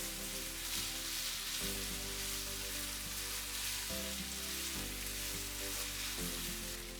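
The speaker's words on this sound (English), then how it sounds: "Stir the 1 tablespoon of minced garlic with the rest of the ground pork" Ground pork and minced garlic stirred in a frying pan, a dense continuous sizzle heard close and steady under background music, with no talking.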